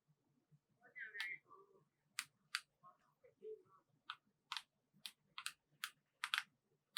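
Key clicks from a small wireless mini keyboard used to play PUBG Mobile: scattered soft taps at first, then a quicker run of sharp, close clicks in uneven bursts over faint background noise.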